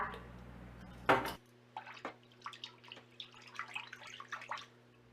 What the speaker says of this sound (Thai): ก่อนอื่นต้องนำผักมาล้างก่อนค่ะ